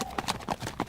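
Horses' hooves clip-clop outside a castle at dark as riders arrive, a steady run of about five crisp, close hoofbeats with no talk over them.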